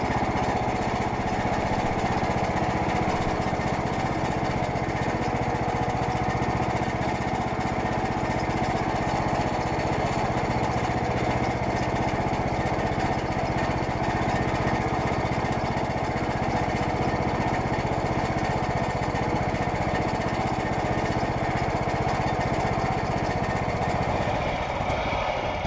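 A John Deere tractor drives back down a hill at a gold mine site, its engine a steady, loud, droning roar that stays close and unchanging, then drops away sharply at the very end.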